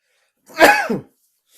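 One sharp sneeze bursts out close by, brief and loud, surrounded by silence.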